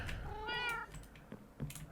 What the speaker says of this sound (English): Oh, look at all these cats.